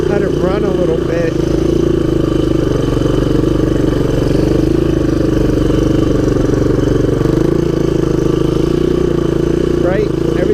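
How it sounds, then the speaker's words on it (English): A 1983 Honda ATC200X three-wheeler, its clutch and flooding carburetor freshly fixed, runs steadily and close with a continuous mid-pitched chugging engine drone, while a person talks over it. "Yeah, carburetor seems happier. Engine seems happier."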